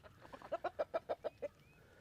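Chickens on a farm cluck in a quick run of about eight close, fairly soft calls over roughly a second, with a faint high squeak near the end.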